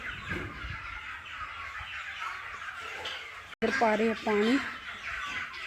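Chickens cluck a few times close by in a vegetable garden with chilli plants while a person talks over a steady outdoor background.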